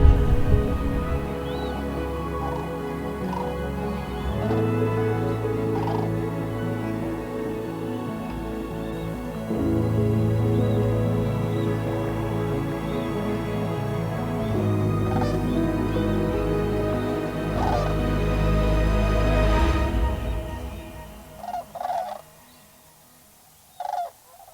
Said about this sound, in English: Those are big ass birds.